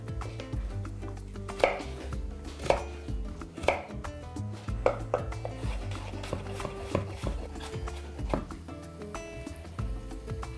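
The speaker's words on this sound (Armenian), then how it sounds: "Սա էլ մանր կտրատում ենք և հալապենոյի հետ տապակում։" Garlic cloves are finely chopped with a knife on a board, a close series of crisp, fairly regular knife taps with a few sharper strikes, set against soft background music.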